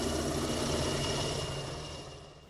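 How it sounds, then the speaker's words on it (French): Military helicopters pass over La Mure, their rotor and engine roar loud and steady at first, then slowly fading as they move away. "Surgis de nulle part, ces hélicoptères fendent le ciel de la Mure."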